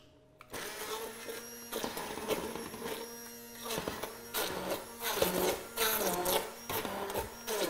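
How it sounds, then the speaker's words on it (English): A kitchen blender purees cooked cauliflower with mascarpone cheese, producing a loud, steady motor whir that varies in pitch as the blade churns through the thick mixture. "So I'm just going to quickly puree up my cauliflower here,"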